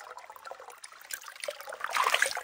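Water trickles through a freshly cleaned culvert pipe in the woods, a faint, close, uneven dribbling and gurgling that grows a little stronger toward the end, with no one talking.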